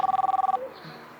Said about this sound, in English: I'm calling. Your phone is here.